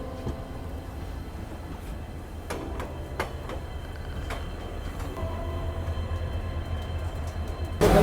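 The Kanchanjunga Express rolls into New Haflong railway station with a steady low rumble, repeated sharp clanks of wheels over rail joints and a louder surge near the end, heard alone without talk.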